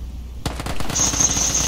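Gunfire in the video game PUBG, a sudden loud onset followed by a rapid burst of shots with a steady ringing tone above it, close and dense.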